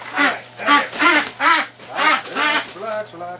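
Muscovy ducks give a series of about seven rhythmic, raspy calls at close range, fairly loud and evenly spaced, with a low steady hum underneath.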